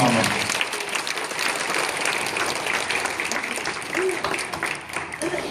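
A church congregation bursts into loud, sustained applause, dense clapping filling the hall evenly, with some voices mixed in underneath.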